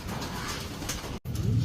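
A racing pigeon returning home from a race lap out of Pio Duran gives low, steady cooing close by, with a brief break near the end before more cooing.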